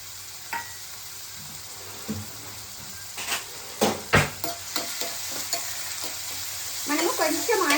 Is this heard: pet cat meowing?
no